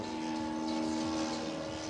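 Steady, continuous engine drone from an RC scale model of the Aero A-34J Kos trainer biplane, powered by a ZDZ 80 RV petrol engine, holding an even loud tone throughout with no talk.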